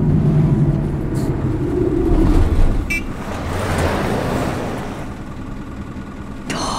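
A car approaches a bus stop from inside a stopped bus, its engine swelling then fading amid traffic noise, with brief clicks and a short honk-like tone.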